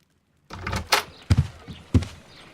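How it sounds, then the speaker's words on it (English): Front door opening in the Sherlock Holmes: Crimes and Punishments video game, heard as a few close wooden thuds and knocks over roughly two seconds, rising out of silence with no talk. "I just heard the front door."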